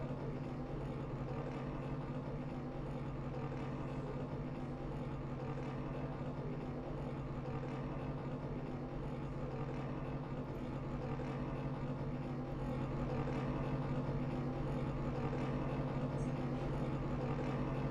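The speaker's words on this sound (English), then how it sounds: "Pace car about to start rolling. And here they come out on track." C12 Gen 4 series race cars roll out on track at Auto Club Speedway behind a pace car, heard as a steady, fairly distant engine drone with a constant low hum and no talk over it.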